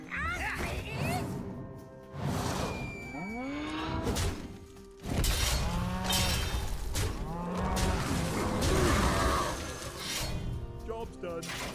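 Cartoonish cow moos from a digital card game repeat several times, loud and close, layered with crashing and smashing game effects and a player's speech running throughout.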